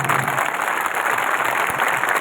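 A crowd claps steadily at a Rana Punja Jayanti gathering in Asind, dense and sustained throughout at fairly close range.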